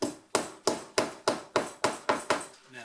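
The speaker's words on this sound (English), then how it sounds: "that hammers them into the plastic and actually goes out on the other side" Hammer blows drive rusty staples into a plastic pontoon boat seat, eight sharp, evenly spaced strikes about a third of a second apart, close and loud, with no talking.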